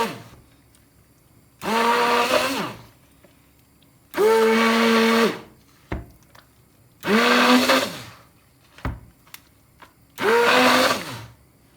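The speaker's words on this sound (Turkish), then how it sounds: "Blenderdan geçirip bunu güzel bir blenderla güzel çekeceğim." A blender whirs in four separate bursts of a couple of seconds each while making homemade cheese, loud and close, with short quiet gaps and small clicks between.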